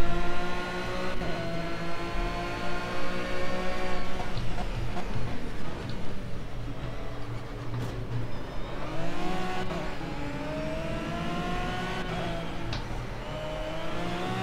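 An Aston Martin GT3 race car engine drives a night lap of Zhuhai in Project CARS. It screams loud and continuous, revving up and down in repeated sweeps through shifts and corners.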